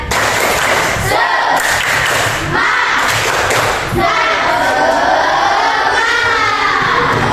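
A classroom of students performs the tepuk semangat, a rhythmic clapping chant with loud group shouting and punctuated clap bursts, energetic and close.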